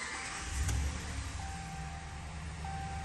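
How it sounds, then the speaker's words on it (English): A 2014 Ram 1500 Outdoorsman pickup engine cranks and catches with a short low burst, then settles into a quiet, steady idle with faint tonal hums inside the cab; no talking. "Hopping on in now, we'll go ahead and start up for you guys."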